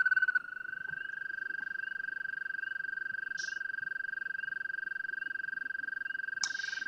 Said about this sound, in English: American toad, you are correct. That's the long trill.